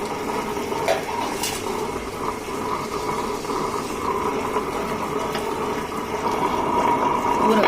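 A wet grinder churns cooked ration rice with grated coconut into appam batter, making a continuous, close, rough churning and sloshing noise with faint clinks of metal on and off.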